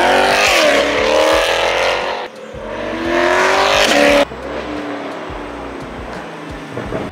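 A 2020 Corvette C8 convertible with a Fab Speed X-pipe exhaust, loud and close, its engine roaring and revving hard through rising gear pulls, with a sudden drop in intensity partway through.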